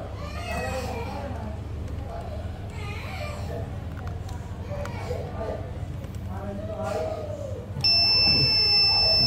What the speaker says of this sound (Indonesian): Ini protektornya bunyi karena kemarin di setnya di 1 ampere.